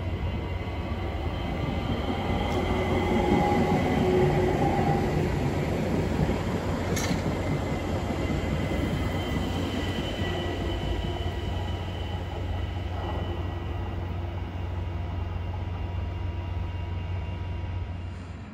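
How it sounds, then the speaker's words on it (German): An S-Bahn commuter train running from Brenner toward Hochfilzen rolls steadily past, a continuous loud rumble of wheels on rail with faint metallic squeals and clicks throughout, no voices. "Der fährt vom Brenner nach Hochfilzen, eine S-Bahn."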